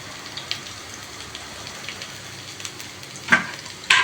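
Garlic sautés in a tablespoon of oil in a pan, giving a soft, steady crackle with scattered pops and two sharper stirring clatters near the end.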